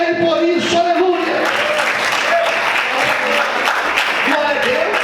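Applause from a church congregation during a Portuguese-language sermon, dense and steady throughout, mixed with voices and musical tones.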